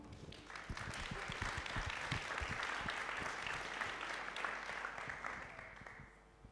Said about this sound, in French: Je vous demande donc d'applaudir Terence Bandoudi.